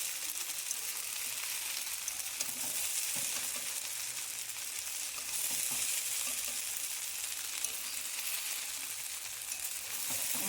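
Pasta sizzles and fries steadily in a pan, a constant close crackle with small stirring scrapes and no talking.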